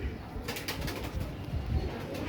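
Feroz Puri and Saadna fancy pigeons coo softly in low, throaty murmurs close by, with a faint flutter of wings and light background noise.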